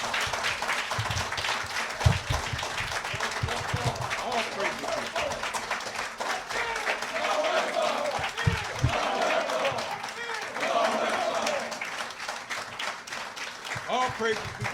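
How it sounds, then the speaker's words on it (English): Audience applause at a Muslim community gathering, with steady clapping that runs throughout and talk heard over it. "Give him another round of applause"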